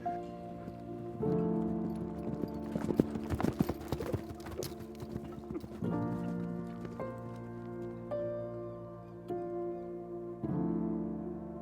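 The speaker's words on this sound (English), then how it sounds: "Wild horses moved freely through the grasslands." Hooves of wild horses clip-clop across grassland below snowy Tien Shan mountains in Kazakhstan, a steady close rhythm in several bursts broken by brief pauses.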